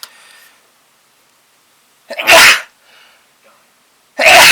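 Two sharp, loud sneezes burst out a couple of seconds apart, close by, with faint breathing and quiet between them.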